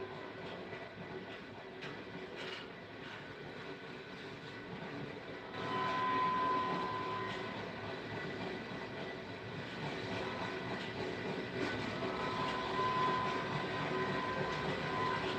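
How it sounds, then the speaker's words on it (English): A freight train rolls past steadily, a continuous rumble with faint clanking and a few brief high squeals, moderately distant and unbroken throughout. "I just love that ambient train sounds."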